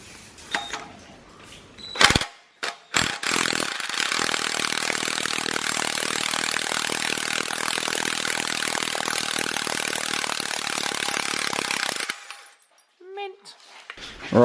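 Impact wrench driving a puller on a Toyota 2JZ engine during a bottom-end teardown, one long loud continuous buzzing rattle of about eight seconds, up close, with brief clunks and handling noises before and after.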